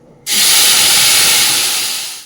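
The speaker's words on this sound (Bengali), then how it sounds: "মশলাটা তেলের মধ্যে দিয়ে দিয়েছি এখন কিন্তু বেশ খানিক্ষণ কষাতে হবে" Cashew, tomato, cumin and chilli spice paste hitting hot oil with a sudden loud hiss that starts abruptly and holds as a steady, bright sizzle, easing slightly toward the end, with no talking.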